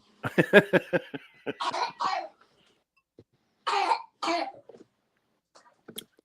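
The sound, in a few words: coughing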